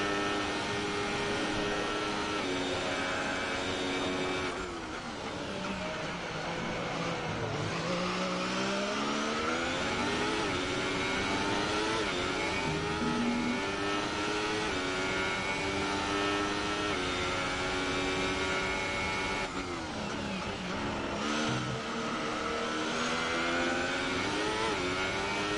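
Formula 1 car engine in the F1 2018 racing game, loud and continuous, its pitch climbing and dropping through gear changes and revs for the whole stretch, with no voices.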